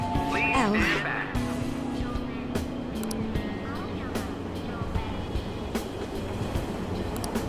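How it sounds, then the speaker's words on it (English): A train in the Persona 5 video game closes its doors with a short chime and pulls away, a rising motor whine under steady rolling rumble and rattling carriage noise; no speech is heard. "Train doors are now closing. Please stand back."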